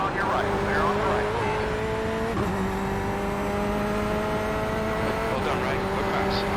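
Corvette C8.R race car engine in iRacing, a sustained high revving drone with gear-shift dips as another car passes close alongside, with faint voices underneath.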